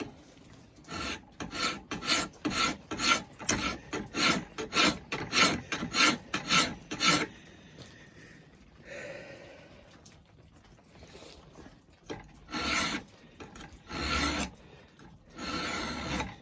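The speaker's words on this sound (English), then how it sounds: "that file will peel off little shavings its width of tooth cut there, or width of the file" A hand file rasps across a forged steel knife blade in a rifleman's knife build, a run of about a dozen rhythmic close strokes, then a pause and a few slower strokes.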